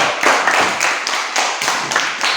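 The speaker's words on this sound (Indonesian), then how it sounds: "Tepuk tangan untuk Julio." A classroom of children clapping hands together in a steady rhythmic burst of repeated group claps, close and fairly loud, with no talk over it.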